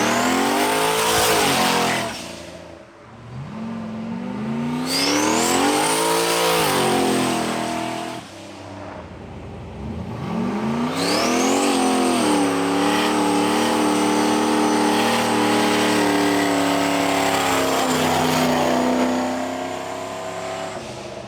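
A 1000 HP turbo Trans Am accelerates hard in repeated pulls, the engine note climbing loud and close through each gear, dipping briefly between pulls before winding up again in a long final run.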